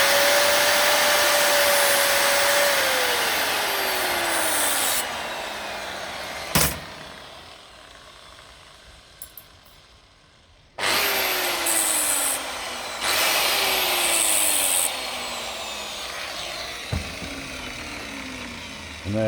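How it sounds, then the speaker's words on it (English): An angle grinder cuts through the rear brake pipe on a Ford Fiesta Mk6: a loud, steady high whine that drops in pitch under load, a pause with a few light clicks, and then a second long burst of grinding. "I just do it with a grinder for quickness, so I just chop the pipe off"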